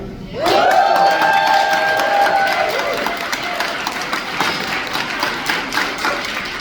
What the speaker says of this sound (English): I think she wanted me to ask that we applaud the workers at the Holicene tonight.